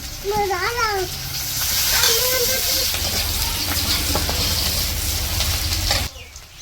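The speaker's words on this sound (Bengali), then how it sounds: "এখন রান্না করব মাছের তরকারি তো কড়াইয়ে ওই যে পেঁয়াজ আর কাঁচামরিচ দিয়ে দিছে" Onion and green chilli sizzle steadily in a hot wok for a fish curry, a loud, continuous hiss with a brief voice-like tone at the start before the sizzling cuts off near the end.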